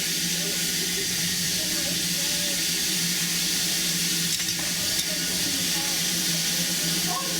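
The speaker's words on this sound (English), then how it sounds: "Wonderful little steam loco there on this railway." A small steam locomotive on the Darjeeling Himalayan Railway gives off a steady, fairly quiet hiss of escaping steam, a continuous airy wash with faint intermittent clanks and rattles beneath it.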